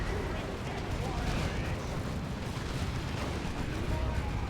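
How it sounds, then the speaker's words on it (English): An Ork Rock Strike, the faction's global nuke ability in the strategy game Dawn of War 2: Retribution, lands as a dense, continuous blast and rumble of explosions and gunfire, loud battle noise throughout. "And here's a Rock Strike. Global ability for Orks. That's their nuke."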